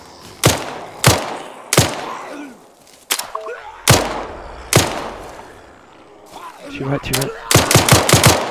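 Gunfire in the video game Arma 3: sharp, loud single shots spaced irregularly, some with a trailing echo, ending in a rapid burst of several close shots, with faint clatter between them.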